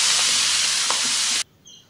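Chopped garlic and shallots sizzle in oil left over from frying fish, a loud steady hiss that cuts off abruptly after about a second and a half, leaving near silence.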